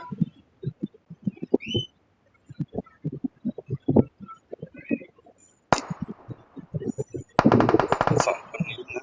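Bursts of gunfire in the video game PUBG, with a few loud rapid volleys near the end after a stretch of dense, choppy mid-range game sounds and muffled thumps.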